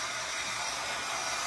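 A hair dryer blowing on wet paint on a nautical bathroom decor piece gives a continuous, close, loud airy roar.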